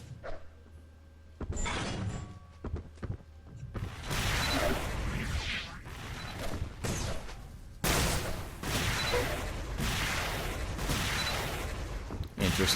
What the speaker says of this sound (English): ZeroQL appears to be going for a little bit of flash with some blaster usage